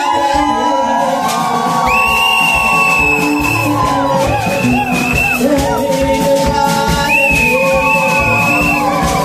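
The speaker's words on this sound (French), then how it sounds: "Des cris de joie." A church congregation at a French-language worship service erupts in loud, sustained cries of joy, with whoops, shouts and shrill whistles over a constant roar of cheering and clapping.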